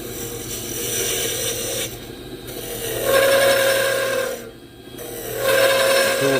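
A half-inch round nose tool cutting Spectraply on a wood lathe, making a continuous raspy, scraping hiss. The cut pauses briefly twice and then resumes, growing louder and harsher at times.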